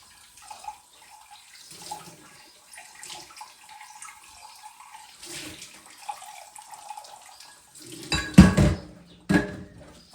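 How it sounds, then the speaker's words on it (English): A soap-making container rinsed under a running tap in a sink, with light clinks of dishes and utensils, then a louder burst of splashing water and clattering near the end. "So I'm gonna hurry and actually rinse this out."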